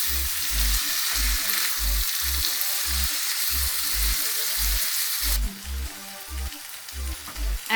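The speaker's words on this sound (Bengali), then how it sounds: "এবার এটা ভালো করে নেড়ে দিচ্ছি" Taro stems frying in a pan with sugar, giving a loud, continuous sizzle close up while a rhythmic stirring thumps along underneath.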